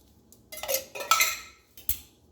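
Drained, rinsed canned diced tomatoes are tipped from two cans into a crockpot for turkey chili, giving several sharp metallic clinks and scraping knocks in quick bursts, close and fairly quiet.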